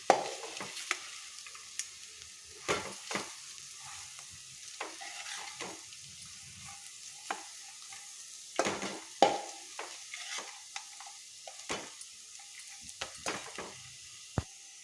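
Bitter gourd is stir-fried with chili powder in a pan, with intermittent sharp scrapes and clacks of a spatula against the pan over a low sizzle, close by and with no talking.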